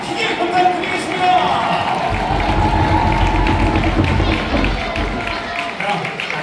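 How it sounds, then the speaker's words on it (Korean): Fans at a baseball stadium applaud after a game, a broad, distant crowd roar of clapping and cheering that swells and lingers, with a voice talking over the noise throughout. "이만큼 격려의 응원의 사랑의 박수를 크게 부탁드리겠습니다."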